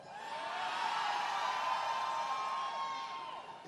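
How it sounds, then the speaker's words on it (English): A rowdy crowd at an Obama rally in Florida cheers and whoops, a broad roar that swells, holds, and fades over a few seconds with no speech over it. "It's always a rowdy crowd."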